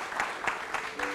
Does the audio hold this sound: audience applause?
yes